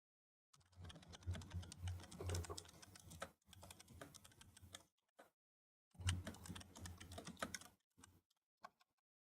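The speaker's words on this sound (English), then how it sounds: "I was typing" Fingers typing steadily on a computer keyboard at home, rapid close clicks in bursts separated by short pauses, with no talking.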